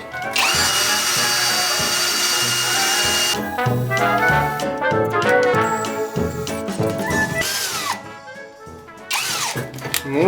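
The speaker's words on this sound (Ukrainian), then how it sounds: "Ну і давайте спробуємо, як буде сверлити." A Ronix cordless drill fitted with a 13 mm bit bores into metal, its loud, close motor whine rising and dropping in uneven bursts with brief pauses and grinding under load.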